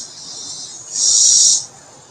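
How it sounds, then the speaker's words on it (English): A katydid or cicada buzzes right next to the microphone, a steady high-pitched insect drone that swells sharply louder for about half a second in the middle before settling back to a softer whine. "That's a katydid or a cicada."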